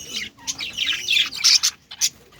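Pet budgerigars kept in a cage for breeding chirp and tweet busily, several bright close calls overlapping in quick irregular bursts with short pauses, no voices.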